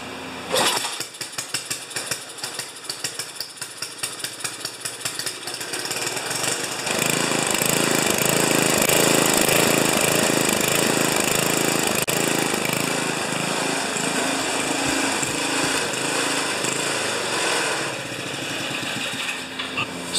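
An Ariens 2+2 snowblower engine is yanked over in a rapid series of pulls, then catches and runs loud and close, roaring steadily before dropping a little near the end, with no talking.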